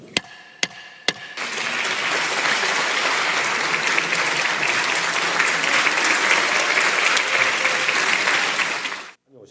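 Sustained applause fills the National Assembly chamber after a special counsel bill on the Marine investigation is declared passed, opening with a few loud single claps before a dense, steady wall of clapping that runs for several seconds and then cuts off.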